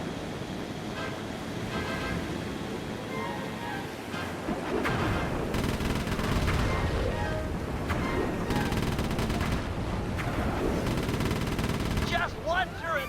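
Turret gunfire in Sly 3: Honor Among Thieves, a dense, continuous rattle of shots over a windy, surf-like game backdrop, growing louder and busier in the second half before easing off near the end.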